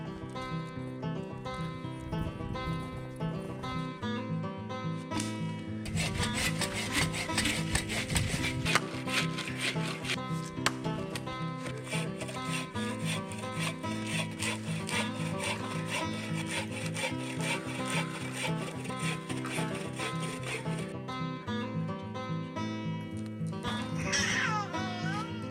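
Firewood is sawn at a snowy winter campsite with kids along, a steady rhythmic rasp of strokes that runs almost unbroken for about twenty-five seconds, fairly faint and alone.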